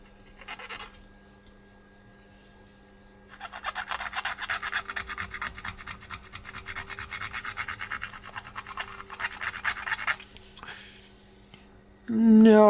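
Cotton bud scrubbing a circuit board with isopropyl alcohol during repair of an Agilent U1731A LCR meter: a steady close-up rubbing rasp lasting several seconds, with a low electrical hum underneath and a louder knock at the end.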